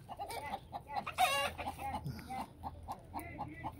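Chickens cluck repeatedly at close range in a village yard, short choppy calls in an irregular rhythm, with one louder squawking burst partway through.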